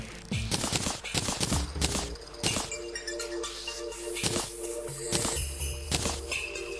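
Rapid bursts of snowball machine shooting in the video game Terraria crackle and thump in quick succession, punchy and close, over a steady background hum.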